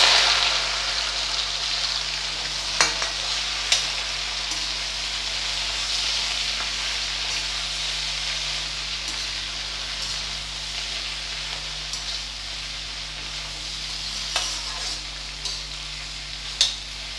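Okra and asafoetida frying in hot oil on a low flame for an Indian bhindi dish, a constant close sizzle with occasional stirring clinks and no talk.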